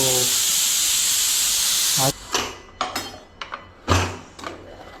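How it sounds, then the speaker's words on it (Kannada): A pressure cooker cooking chithranna vents a loud, steady steam hiss after its whistles, then stops, leaving short clattering bursts of lid and pot handling. "ಇನ್ನು ವಿಸಿಲ್ ಬರೋ ತನಕ ಮುಚ್ಚಿಡಬೇಕು"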